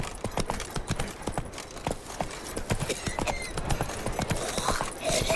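Horse hooves clip-clop at a steady walking rhythm in the video game Witcher 3, sharp repeated knocks close by, joined now and then by faint game ambience.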